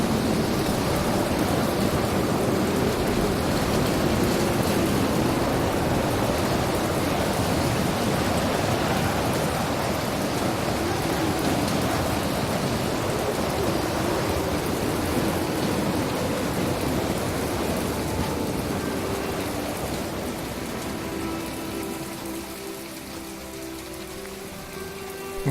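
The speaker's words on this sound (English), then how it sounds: "looks like it's just a passing shower." Steady, loud rain shower in the Planet Explorers game world, a dense even hiss with faint rumbles of thunder, easing slightly toward the end.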